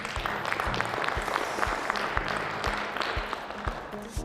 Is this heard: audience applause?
yes